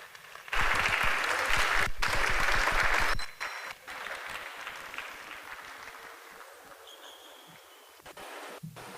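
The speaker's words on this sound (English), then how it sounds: "Shall we sustain the applause for that beautiful presentation?" Loud audience applause at a festival opening ceremony erupts and sustains for a few seconds, then drops to a softer, scattered patter with some rustling and faint voices.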